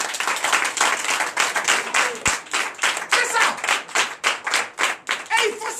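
A church congregation at a Sunday service in Comè, Benin claps in steady rhythmic unison, loud and sustained, with voices mixed in.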